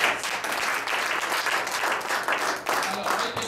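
Church congregation applauding, a dense loud wash of clapping that runs throughout with voices mixed in.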